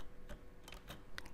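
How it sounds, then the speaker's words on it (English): Several light, crisp keystrokes on a computer keyboard, spaced irregularly over about a second, quiet and close with faint room noise between taps. "As you start typing,"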